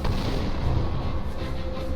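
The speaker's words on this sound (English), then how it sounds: "You hear a massive nearby explosion." A massive explosion close by, presented as a sound effect during an attack: a loud, dense, deep rumbling roar that fills the whole two seconds without letting up.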